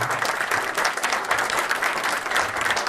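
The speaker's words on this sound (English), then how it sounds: "asking everyone to give them a big round of applause for what they've done" An audience applauds steadily throughout at a zoo gathering announcing its new President and CEO, a dense, sustained wash of many hands clapping with no pauses.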